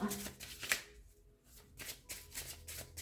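Cards from a rune deck are shuffled and drawn at a table, giving a rapid papery riffle followed by a few short, soft flicks and slides, close and fairly quiet, with no talking.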